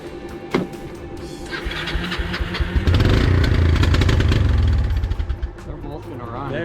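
A small Kawasaki engine on a salvaged boneyard four-wheeler rattles and revs, swelling to a loud sustained roar mid-clip before dropping back to an uneven idle, with voices faintly underneath.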